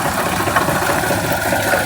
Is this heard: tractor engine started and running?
yes